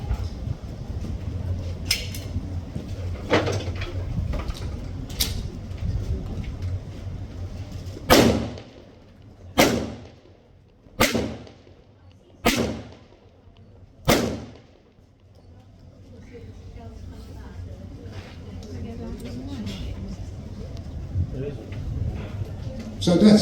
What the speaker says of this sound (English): It's a toggle action, which hopefully you'll see when it's fired.